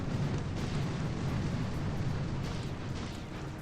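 Rumbling explosion of bombs hitting mines in the mobile strategy game Boom Beach, a dense, steady roar of blasts that fills the whole stretch without pause.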